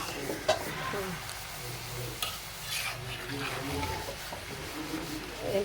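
Eggs are stirred into noodles in a hot pan, giving a steady sizzle with scraping and occasional clinks of a utensil against the pan while a voice talks over it.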